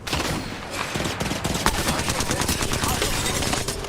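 Rapid bursts of video game gunfire crackle continuously and loudly, with dense overlapping shots and a voice speaking intermittently beneath.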